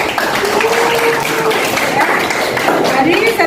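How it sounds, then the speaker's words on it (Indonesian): Students in a university special-education class discussion give a round of applause, a dense steady patter of many hands over the full stretch, with voices talking faintly through it. "Ya, kita beri tepuk."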